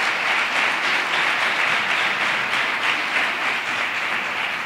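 Audience applause at a Three Kings coronation ceremony in Maribáñez, Spain: continuous dense clapping from a crowd, even and sustained throughout with no break.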